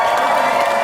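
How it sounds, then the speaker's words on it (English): Audience applause at a Star Wars Weekend talk with Frank Oz at Disney World, a dense, steady wash of clapping from a large crowd, loud and close, with no pauses. "this is cheap applause for you"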